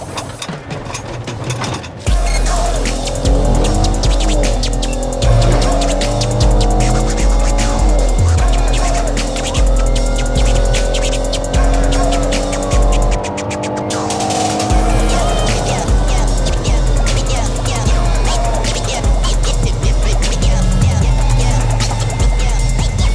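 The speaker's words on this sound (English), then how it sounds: "that white car coming up right now." A white car with California plates speeds past on Alligator Alley highway, its engine roaring loudly and throbbing as it nears and passes, with a steady drone of tires and road noise throughout.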